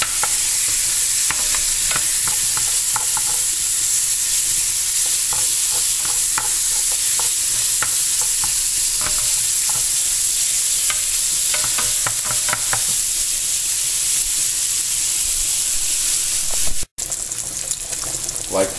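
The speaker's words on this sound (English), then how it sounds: "Like to get the onions and the bacon pretty crispy." Onions and bacon frying in a soup pot, being stirred, give a steady close sizzle with scraping stir clicks throughout, interrupted by one brief sharp knock near the end.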